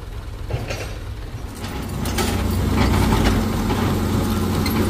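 Heavy construction equipment runs on a road being raised with truck-hauled fill material, its engine a steady low rumble that swells a little louder midway and holds, with no talking.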